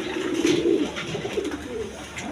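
Breeding pigeons at a loft give a low throaty coo that swells early and then fades into softer murmuring, heard close by with no voices.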